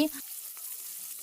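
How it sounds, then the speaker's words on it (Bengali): Fish frying in a pan, a steady broadband sizzle running throughout after a brief lower clatter at the start, moderately close and even in level. "এখানে আমি মাছ ভাজি করতে বসিয়ে দিয়েছি"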